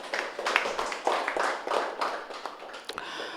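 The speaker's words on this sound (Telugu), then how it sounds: "మన శరీరానికి ఒకసారి గట్టిగా చప్పట్లు కొడదాం." A crowd at a Telugu promotional event for PMC in Hyderabad claps together, a loud uneven burst of many hands with sharp individual slaps that runs for a few seconds.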